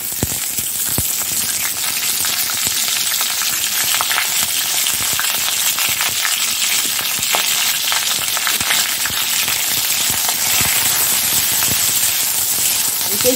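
Cauliflower pieces fry in hot oil in a kadai, a steady, dense sizzle crackling throughout with occasional sharper pops and stirring clinks.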